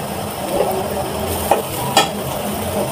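Onion and garlic fry in a pan, browning to a reddish colour. A steady, even sizzle runs throughout, with two brief sharp clinks of stirring.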